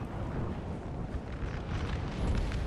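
Artillery barrage and explosions in a 4v4 Napoleon Total War battle, guns pounding a French position: a dense, continuous rumble of overlapping booms with no gaps, loud and steady throughout.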